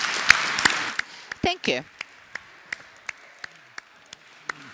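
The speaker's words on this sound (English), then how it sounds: "Я сердечно аплодую." An audience at the Kyiv Security Forum for Youth claps with scattered, sparse hand claps that thin to isolated single claps, while a voice briefly speaks over them.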